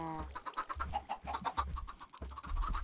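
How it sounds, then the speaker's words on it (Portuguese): Minecraft chickens clucking in short, repeated bursts, several overlapping, quiet and close with no talk. "Nasceram mais galinhas aqui e tal."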